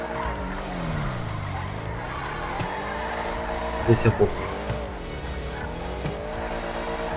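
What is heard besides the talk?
car drifting with tire squeal in video game GTA 5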